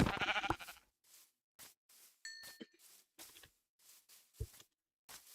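Minecraft sheep bleating in the video game amid short clicks, pops and a brief chime, the sounds arriving in separate, fairly faint bursts with gaps of silence between them.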